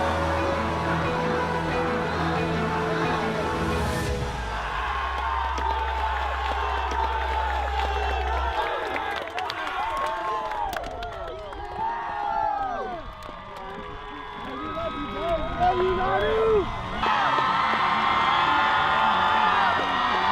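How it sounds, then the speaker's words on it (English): Football crowd rises and cheers with whoops and shouts for a Make-A-Wish player, the stadium noise swelling and falling in waves over about twenty seconds. "the crowd rises to their feet. They're chanting, Nanu, Nanu, Nanu"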